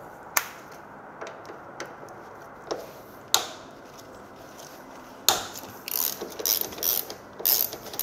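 A ratchet wrench works a 14 mm bolt on a Honda SH350i scooter with a few sharp separate clicks, then a burst of rapid ratcheting toward the end, close and moderately loud.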